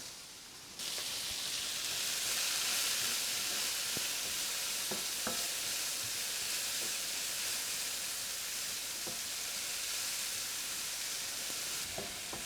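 Yellow and red onions with leek frying in a pan for a Swedish onion sauce give a steady, close sizzle that holds throughout after a quiet opening, with a few faint clicks and no talking.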